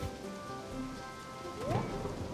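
Steady soft rainfall pattering with ambient tones in the background, continuous and even throughout, in the video game Harvest Moon: Animal Parade.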